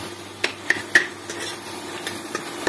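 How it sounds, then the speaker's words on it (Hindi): Spiced potatoes stir-fried in a pan for an aloo tamatar kasuri methi sabzi, with sharp clinks and scrapes of a spatula against the metal pan at irregular intervals over a quiet background. "इस तरह से मैं इसे भून लूंगी अच्छी तरह से"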